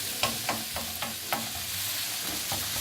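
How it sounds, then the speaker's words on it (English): Vegetables sauté in a hot pan with a steady sizzle, with several sharp clinks and scrapes from a utensil stirring them at irregular intervals, fairly close and moderately loud, no voices. "they're sauteing beautifully"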